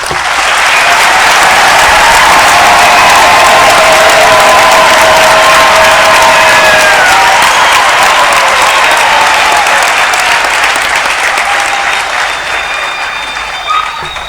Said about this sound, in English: give another big round of applause to the graduates